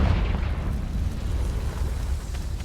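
A Confringo spell explosion in Hogwarts Legacy bursts loudly at the start, then its rumbling tail fades into a low ambient drone.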